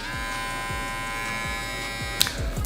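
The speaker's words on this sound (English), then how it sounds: "super quiet clippers, that is what everybody is just going crazy about with these things" JRL 2020C Onyx hair clippers running at high speed give a steady, close electric buzz with a bright whine that holds evenly throughout, broken only by a few faint handling knocks near the end.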